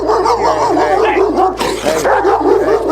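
A dog barks and yelps loudly and up close while attacking a police officer, a rapid run of agitated barks with whimpering tones and a short scuffling burst in the middle.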